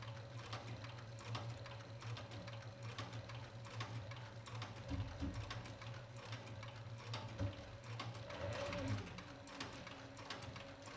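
A sewing machine runs steadily at high speed with a rattling, ticking mechanical churn and a low motor hum, loud and close with no talk over it.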